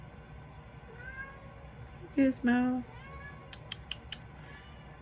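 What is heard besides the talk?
cat named Gizmo meowing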